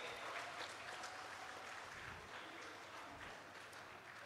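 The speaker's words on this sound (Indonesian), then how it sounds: "Sekali lagi beri tepuk tangan untuk Prof. Kiki." An audience at an Indonesian intellectual forum applauds for a professor, producing a dense, even wash of clapping that stays steady and fairly quiet throughout, heard from a distance in a large hall.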